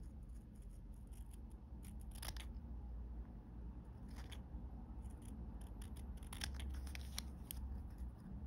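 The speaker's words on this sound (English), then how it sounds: "And while I'm a bit handy with the scissors, I'm going to cut out" Scissors snip through paper templates for a miniature apartment build, a close series of crisp, quiet cuts in irregular rhythm with soft paper rustling and no talk.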